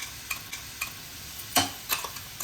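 Chickpeas with garlic, green chillies and spices fry quietly in a pan while a spoon stirs them, with a few soft scrapes and clinks over a faint sizzle.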